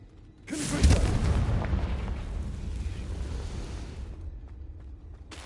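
A Confringo fire spell explodes in the video game Hogwarts Legacy: one loud, close boom followed by a rumbling roar that slowly fades over several seconds.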